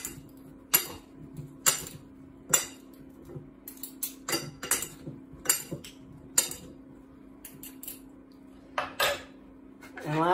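Cucumber salad with sesame seeds mixed in a bowl, a run of sharp utensil clinks and taps against the dish at an irregular pace, close and fairly quiet between strikes.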